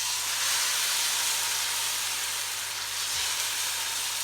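Rice and oats ghavane batter sizzling on an oiled pan, a steady broad hiss of frying that holds evenly throughout with no talking.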